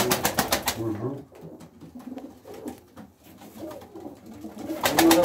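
Pigeons cooing inside a coop in Samsun, a soft, repeated throaty cooing heard fairly close, with people talking at the start and end and quieter cooing carrying through the middle.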